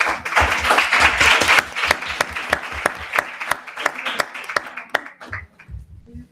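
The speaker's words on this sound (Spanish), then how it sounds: "un aplauso para todos" An audience applauds steadily at a round-table conference, many hands clapping at once for several seconds before the clapping thins out and fades.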